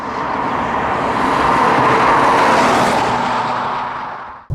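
A 2018 BMW 2 Series coupe with a diesel engine drones steadily and loudly up close, a broad continuous engine and road roar holding for several seconds before cutting off abruptly.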